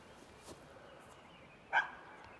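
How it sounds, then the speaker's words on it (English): A dog barking in the background of an evening garden, faint and distant, with one brief bark standing out near the end over quiet outdoor ambience. "You hear my dog barking in the back."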